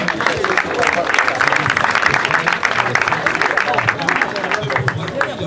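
A congregation at a funeral service breaks into steady, dense applause that runs unbroken throughout, loud and full, with voices mixed in.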